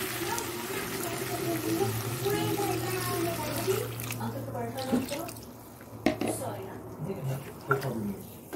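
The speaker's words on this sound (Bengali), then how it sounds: "জল দিয়ে দিই।" Water pours and splashes steadily into a container, fairly close, as a voice talks over it, and later quieter sloshes and a few knocks follow.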